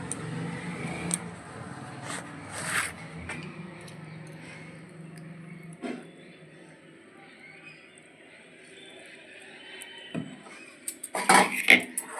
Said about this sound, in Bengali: বয়েল করেছি, একটু আলু ম্যাশ করছি বাইন্ডিংয়ের জন্য।